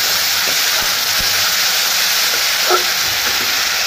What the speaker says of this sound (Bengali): বেসনটাকে ভালো করে এভাবে ভেজে নিচ্ছি যতক্ষণ পর্যন্ত ফেনাটা না চলে যায়। দিয়ে দিলাম টমেটো